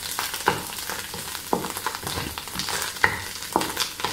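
Bitter gourd (karela) fries in a pan with a soft, steady sizzle, broken by a few stirring clicks and scrapes at close range.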